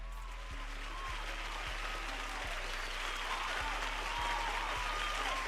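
Crowd cheering and applause sound effect played over a livestream, a steady dense roar of clapping and cheers that stays loud throughout, with faint low thumps in the background.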